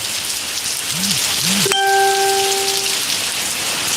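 Steady rain falls across a Malaysian village, an even hiss that runs from start to finish, with a couple of short rising chirps and a brief ringing tone about halfway through.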